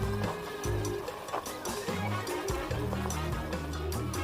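Seasoned beef browning in a pan for beef and noodles, with a steady sizzle and repeated scraping and stirring strokes close by, alone without talk.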